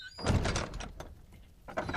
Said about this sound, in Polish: Wolę zamknąć drzwi.